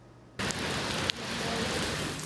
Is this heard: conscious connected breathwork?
no